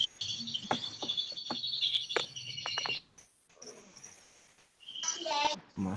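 Several birds chirp and tweet outdoors in rapid, high bursts over a faint background, pausing midway before a further run of calls toward the end.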